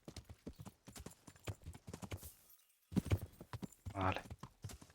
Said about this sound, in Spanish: Madre mía, qué caballo más inútil.